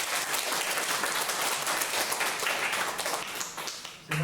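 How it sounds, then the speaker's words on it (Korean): A church congregation claps steadily in sustained applause that keeps going for several seconds, then tapers off at the end. "다시 한번 하나님께 영광의 박수."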